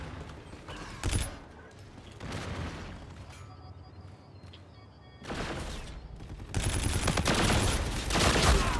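Gunfire in the shooter game Call of Duty: Infinite Warfare comes as loud bursts separated by quieter stretches, building to a sustained barrage near the end, with mechanical clanks between volleys.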